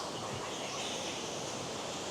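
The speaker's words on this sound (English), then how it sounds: "The waterfall itself, I suppose, must be around about 30 to 40 feet high." A stepped waterfall in Yorkshire, about 30 to 40 feet high and falling over roughly five steps, gives a steady, even rush of water heard from a moderate distance.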